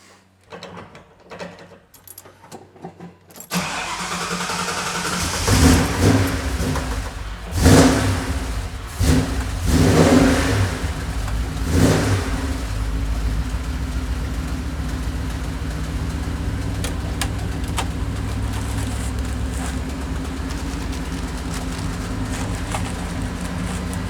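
A Ford Fairmont drag car with electronic fuel injection starts after a short rattle, then revs loudly in several hard bursts before settling into a steady, rumbling idle close by.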